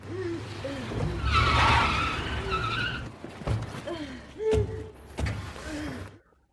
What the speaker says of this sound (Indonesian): Alejandro menembak rompi anti peluru Kate sebelum pergi dengan mobil Silvio yang ketakutan